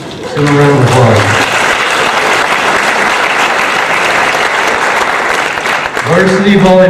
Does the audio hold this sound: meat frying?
no